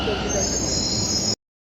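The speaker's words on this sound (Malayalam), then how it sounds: "മെട്രോ വന്നു." A Delhi metro train pulling into the station, a loud, steady rumble with a high metallic whine running for just over a second before it cuts off abruptly.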